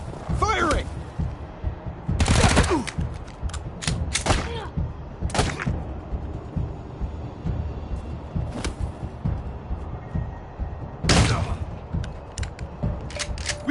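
Combat in the role-playing game Wasteland 3, with several separate bursts of gunfire and heavy thuds scattered between quieter stretches, and a character voice calling out over the action.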